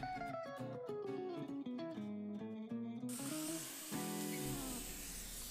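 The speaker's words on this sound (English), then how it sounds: "just worked on blowing this thing out, getting all those shavings out of the engine" An air hose blasts metal shavings out of an engine through a repaired spark plug hole, a steady broadband hiss that begins partway through after an earlier stretch of tonal, musical sound.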